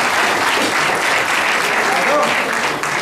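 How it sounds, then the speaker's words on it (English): An audience at a conference introduction session claps in a sustained, dense round of applause, with voices mixed faintly into the clapping throughout. "A big round of applause for the rest guys."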